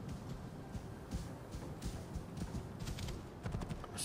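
Horse hooves clip-clopping in Assassin's Creed Origins, a steady trotting rhythm of soft repeated hoof falls over a continuous background hiss, moderately quiet with no talk.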